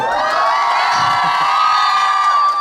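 A close audience at a club concert cheers and shouts in one sustained, loud wall of voices with high screams on top.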